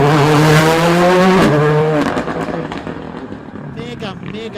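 Rally car on a tarmac stage of the Argyll Rally near Dunoon, a loud engine note with clear harmonics passing close and dropping in pitch, then fading, with a commentator talking over it.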